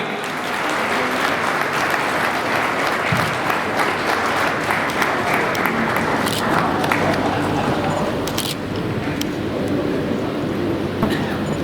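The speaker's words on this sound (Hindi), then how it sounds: "जोरदार तालियां लगातार बजती रहेंगी" Loud, sustained audience applause at a public event in Gorakhpur, a dense wash of clapping that continues steadily throughout and eases slightly near the end.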